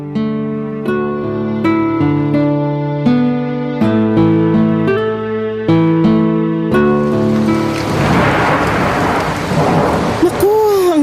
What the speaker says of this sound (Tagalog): Lakas ng ulan sa labas ng bintana